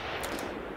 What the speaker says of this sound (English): So over here we've got an intervention rifle. So if I'll just pick that up, I'll give you an idea of kind of like the shooting.